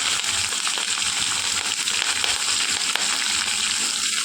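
Green chilies sizzle loudly in hot oil with cinnamon and dried red chilies, a dense, steady frying crackle close by that carries on without a break.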